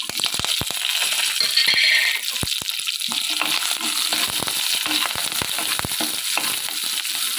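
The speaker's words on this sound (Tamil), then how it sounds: "இப்போ இது கூட காஞ்ச மிளகாய் சேர்த்துக்கலாம், கருவேப்பிலை சேர்த்துக்கலாம், சின்ன வெங்காயம் சேர்த்துக்கலாம்" Dried red chillies, curry leaves and small shallots fry in hot oil, a loud, close, continuous sizzle with scattered sharp clicks and scrapes from stirring.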